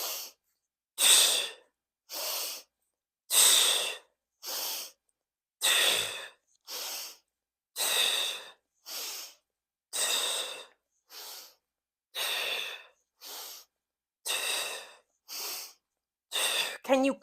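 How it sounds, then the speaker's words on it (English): Strong, rhythmic Pilates breathing: about fifteen forceful, close breaths, alternating inhales and exhales in steady bursts with brief silences between them. "Can you make your breath a little stronger?"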